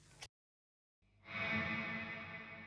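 Guitar played through a Walrus Audio Melee fuzz and reverb pedal: a brief clean note cuts off, then after a moment of silence a thick, distorted chord swells in and sustains with a washy reverb tail.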